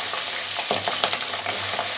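Pabda fish fry in hot oil with a loud, continuous crackling sizzle and sharp spits throughout, close up, with no voices.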